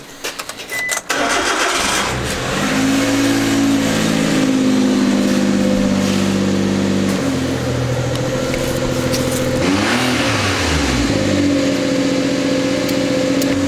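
A turbocharged Suzuki Every Wagon kei car with adjustable suspension starts up close by. Its small engine catches, then settles into a loud, steady idle with a few rising revs and a slight growl.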